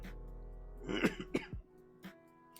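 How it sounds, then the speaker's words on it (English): A single person with a COVID cough coughs a few times, close and distinct, with short bursts separated by brief pauses against a quiet background. "pardon the COVID cough"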